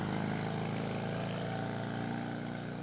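A Fiat race car's engine at the Prescott hill climb, a steady droning buzz held close and loud for the whole moment, with no voices.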